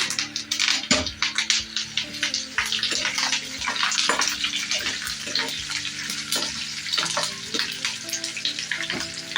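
Dried red chilies and curry leaves frying in hot oil for lemon rice, a steady close crackle and sizzle with sharp pops scattered throughout, and no talking.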